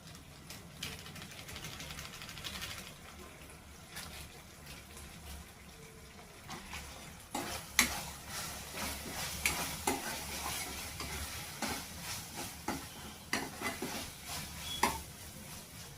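Soya chunks are stirred with Manchurian masala in a pan, giving a soft sizzle with repeated scraping and clacking strokes. The strokes become more frequent in the second half.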